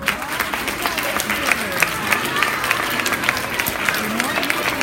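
Classroom audience applauding at a children's class prize reading event, a steady dense patter of many hands clapping throughout, with voices murmuring underneath.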